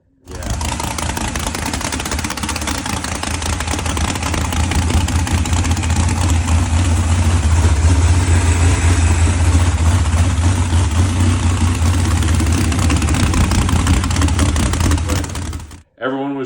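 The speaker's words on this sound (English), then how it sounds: "it's like my favorite idle video of the truck" A Dean Racing truck engine idles steadily with a deep, rumbling low-end throb, close and continuous, before cutting off near the end.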